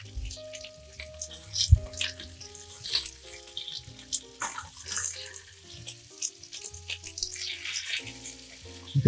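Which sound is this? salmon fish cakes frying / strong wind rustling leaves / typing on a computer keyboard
salmon fish cakes frying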